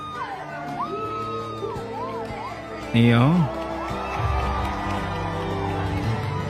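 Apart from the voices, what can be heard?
crowd shouting and cheering at a festival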